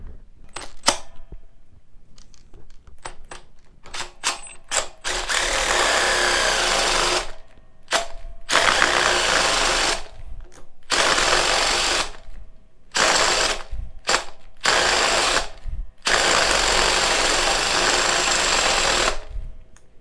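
Makita hybrid hammer drill boring with a 1.5-inch paddle bit at high speed, loud whining bursts that start and stop repeatedly, several several-second runs broken by short pauses.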